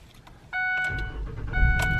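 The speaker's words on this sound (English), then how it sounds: "I'm gonna kill it and see if it will start on its own." Ford car engine cranking briefly with a short electrical whine, then catching and settling into a steady idle, close and fairly loud.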